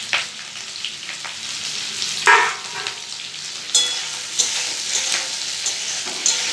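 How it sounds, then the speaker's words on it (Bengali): Capsicum pieces sizzle in a hot pan of onion for chilli chicken, a steady close frying hiss with scattered scrapes and clinks as a spoon stirs them. "এবার ক্যাপসিকামগুলো দিয়ে দিচ্ছি।"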